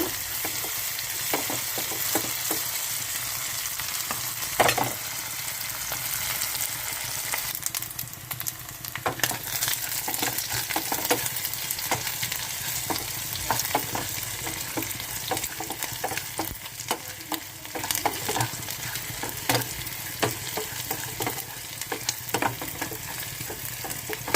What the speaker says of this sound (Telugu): పెద్ద రొయ్యలు కదండి టైం పడుతుంది ఉడకటానికి అదే వేగటానికి టైగర్ రొయ్యలు అండి ఇవి